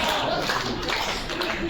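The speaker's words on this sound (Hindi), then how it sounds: "इतने ताली बजा रहे हो" A crowd claps throughout at a Hindi comedy poetry gathering (kavi sammelan) held at the Taj Hotel in Jodhpur, producing dense, steady applause with a faint voice mixed in.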